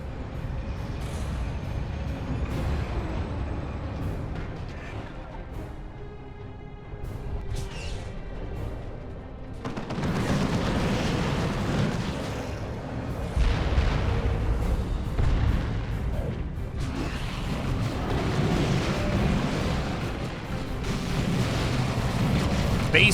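Heavy tanks in the Warhammer 40,000: Dawn of War II – Retribution Tyranid campaign rumble low and steady while deep booming shots and blasts break through. The loud battle din continues without pause and swells after the first third.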